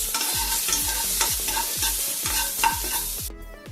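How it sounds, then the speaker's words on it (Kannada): Onions frying in a pan, loud close sizzling under a repeated rhythmic scrape-and-stir pattern roughly twice a second, ending abruptly, with no one speaking. "ಆನಿಯನ್ನು ಈ ರೀತಿ ಕಲರ್ ಬರೋವರೆಗೂ ನಾವು ಇದನ್ನು ಫ್ರೈ ಮಾಡಿಕೊಂಡು"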